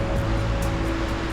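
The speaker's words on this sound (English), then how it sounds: "Look at these waves as well." Ocean waves at Kynance Cove in Cornwall, a steady dense roar of surf filling the short clip without pause.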